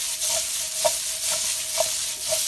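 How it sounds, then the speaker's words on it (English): Sautéed vegetables in olive oil being tossed and stirred in a hot pan, a steady bright sizzle with repeated soft scraping pulses of the food shifting about, close and without any talk. "And then I'll toss them a little bit."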